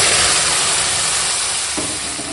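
Masoor dal poured into hot oil with fried onion and chilli gives a loud, steady hiss of sizzling that fills the whole moment and fades very slightly toward the end.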